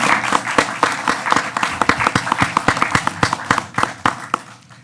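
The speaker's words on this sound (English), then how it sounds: "you all deserve a round of applause" A city council meeting audience claps steadily for several seconds, a dense stream of sharp hand claps that thins slightly toward the end.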